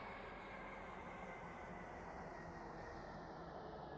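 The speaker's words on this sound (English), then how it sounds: "The train now approaching platform 7 terminates here." A train rolls toward a station platform in the Roblox Stepford County Railway game, a steady, quiet rumble of wheels and motors that holds evenly throughout with no talk.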